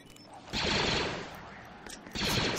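A weapon firing spread shots in the video game Star Wars Battlefront, two dense bursts of rapid crackling fire, a longer one early and a second one near the end.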